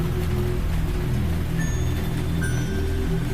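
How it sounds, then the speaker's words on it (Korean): Steady rain patters densely on surfaces with a low wind rumble underneath, continuous and fairly loud throughout. "그저 바람소리와 빗소리만 울렸다."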